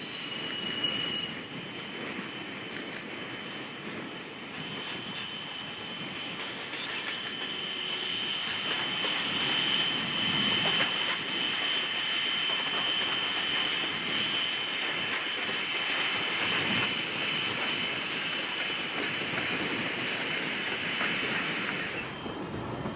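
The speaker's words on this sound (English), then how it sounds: "Number 29 eases its train down grade past Overman Pit." Virginia & Truckee steam locomotive No. 29 eases its train downgrade past Overman Pit. Wheels roll with a clickety-clack and a sustained high squeal as the train draws nearer, swells in the middle and then fades away.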